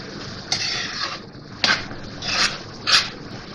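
A spoon scrapes and stirs tomatoes into onion, garlic and ginger in a pan in four distinct bursts of close scraping and rubbing.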